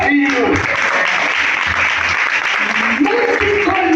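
Church congregation applauding during a lively service, dense clapping that runs under a loud voice speaking over it the whole time.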